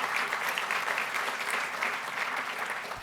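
A gala audience at an education awards event applauds, a brief even patter of many hands at moderate distance, sustained for a few seconds and tapering slightly at the end.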